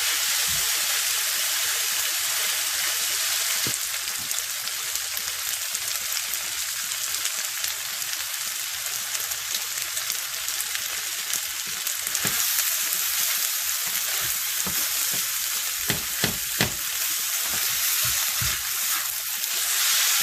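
Yakisoba noodles spread out in a hot pan, searing and frying with a steady loud sizzle throughout, broken by occasional sharp crackles and spatters as they hit the surface.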